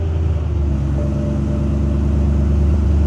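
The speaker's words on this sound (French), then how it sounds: "Alors on va la démarrer, tu vois, parce que j'ai une démarrage sans clé" A 2010 car with keyless start idles after starting, a loud, steady low rumble with a constant hum heard up close throughout, no speech.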